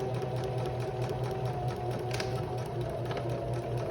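A sewing machine runs steadily and continuously, close and fairly loud, back stitching at the end of a seam on a fabric zipper pouch.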